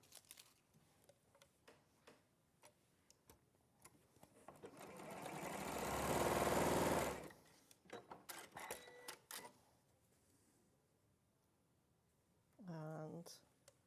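A sewing machine stitches quilt pieces in one sustained run of a few seconds, surrounded by light clicks and handling noises, with a short tonal beep near the end.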